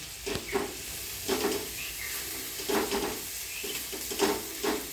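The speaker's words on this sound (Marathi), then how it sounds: "आता हे सगळं मिक्स करून घेते मी" Potato slices for a stir-fry are stirred in a hot pan, a soft continuous sizzle broken by about five rhythmic scraping strokes of the spatula, close and clear without speech.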